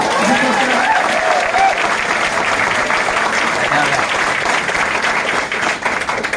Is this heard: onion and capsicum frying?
no